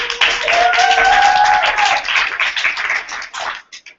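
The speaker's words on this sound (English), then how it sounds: "Big applause for Anna Godfrey" A training-event audience applauds loudly for a welcomed speaker, with a brief whistle early on, then the clapping thins into scattered claps and dies away.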